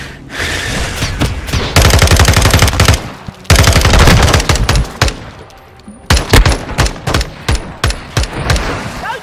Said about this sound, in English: That's the M4. That's my gun actually, that's the SMG.